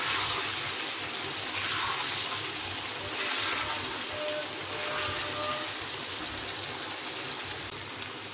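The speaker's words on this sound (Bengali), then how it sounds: "এখন কষানোর জন্য আমি এখানে পানি দিয়ে দিব, অল্প একটু পানি দিয়ে দিলাম" Water poured into a pot of beef being cooked down with spices and potatoes, a steady close-up gushing pour that runs for several seconds.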